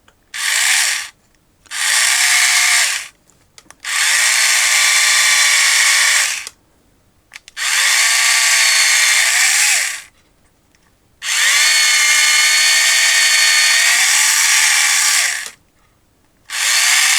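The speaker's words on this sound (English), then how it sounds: "let me drill a hole into this first" Power drill boring a hole into the barrel of a vintage Transformers Megatron toy gun, in repeated bursts of a few seconds each with short pauses between, loud and close, no talking.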